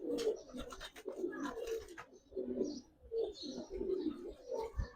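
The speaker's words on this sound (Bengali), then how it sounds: "সুন্দর একটা নর কবুতর" Giribaz pigeons coo in repeated soft, throaty bursts, close and moderately quiet, with brief gaps between calls and no voices.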